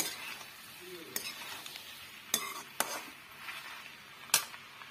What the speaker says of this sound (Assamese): অকণমান সময় ভাজি থাকি তাৰপিছত নমাই দিলে হ'ল